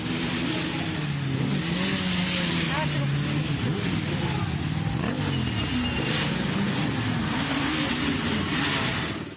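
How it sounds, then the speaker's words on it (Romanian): Several motorcycles roll in for a high school's last-bell ceremony, engines droning and revving loudly and continuously at close range, with speech mixed over the rumble. "Aceștia au venit la ultimul sunet pe motociclete."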